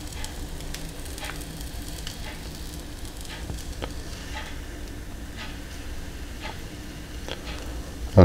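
Crumpet batter cooks gently in metal rings on a pan, giving a soft, steady sizzle with faint crackles and occasional light ticks throughout, no voices.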